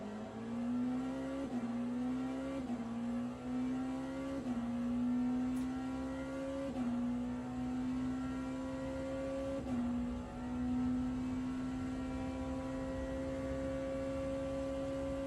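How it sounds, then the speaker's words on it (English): Race car engines roar down the start-finish straight in Le Mans Ultimate at Fuji, a loud sustained engine drone with several upshifts early on, then a steady high-pitched whine holding alone. "we're going to go ahead and let these engines roar down that start-finish straight"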